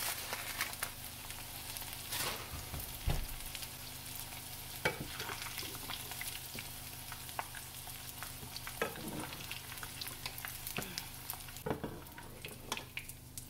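Okra frying in a pan for Southern fried okra gives a low, steady sizzle with scattered sharp clicks and scrapes of stirring, fairly quiet and close, with no talking.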